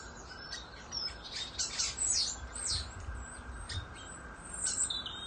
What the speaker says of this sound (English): the starlings be mad